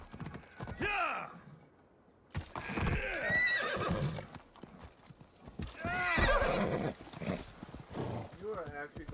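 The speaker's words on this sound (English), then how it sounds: "This is an immortal horse." A horse in the game Assassin's Creed Odyssey neighs and whinnies repeatedly over clopping, galloping hooves, loud and close, with voices talking alongside.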